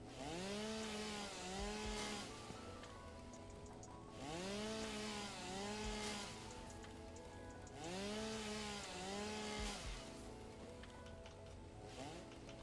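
A video-game chainsaw cuts through trees in repeating bursts, its engine whine rising and falling in several sweeping arcs over a steady, loud buzz with no voices.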